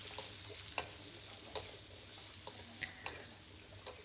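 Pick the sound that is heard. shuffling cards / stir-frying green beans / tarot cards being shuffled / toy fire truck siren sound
stir-frying green beans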